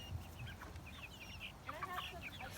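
Young chickens and adolescent roosters clucking softly nearby in a garden setting, with low murmuring calls over a steady outdoor background.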